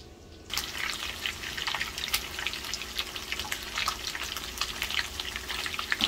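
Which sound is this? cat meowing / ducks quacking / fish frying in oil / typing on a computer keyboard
fish frying in oil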